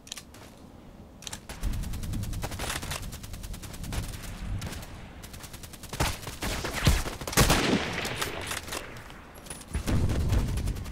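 A Mosin Nagant rifle in a video game fires and is reloaded, giving a run of sharp, closely spaced mechanical clicks and clacks with several louder gunshot bursts mixed in. Nobody speaks.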